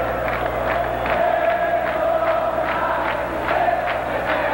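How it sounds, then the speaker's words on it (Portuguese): Flamengo supporters sing in the stadium during the 1986 Carioca final against Vasco, a massed crowd chant rising and falling in a steady pulsing rhythm, loud and unbroken. "Pode a torcida do Flamengo continuar cantando"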